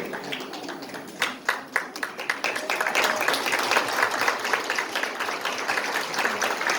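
Audience clapping at a wedding ceremony, starting with a few sharp separate claps that swell into steady, sustained applause from a crowd, moderately loud with no voices over it.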